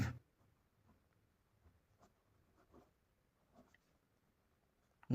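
A pen scratches faintly across paper in short, sparse strokes while numbers are written out for a class 10 maths problem, very close and quiet, with a louder bump at the end.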